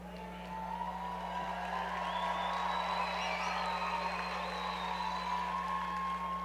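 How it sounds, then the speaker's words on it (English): A graduation audience at a December 2017 university commencement cheers and applauds loudly and steadily, a broad crowd roar with whoops rising over it and no talk. "if we get that kind of cheer for a good morning"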